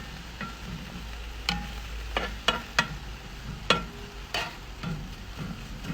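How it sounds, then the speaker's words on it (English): Food frying in a pan during a cooking show: a steady low sizzle with sharp pops and utensil clatter scattered throughout, close and moderately loud, with no talking. "So we'll cook these off. You can see they're frying off."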